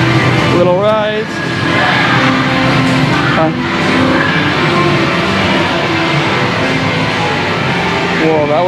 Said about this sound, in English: Whoa, that was arcade.